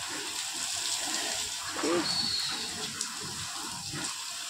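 Dirty water draining out of an air conditioner during cleaning, a continuous splashing, gushing flow close by with a faint high whine from a machine and some indistinct voices mixed in.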